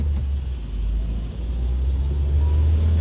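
A car's engine and tyres make a steady, loud low rumble that swells slightly toward the end, with no voices over it.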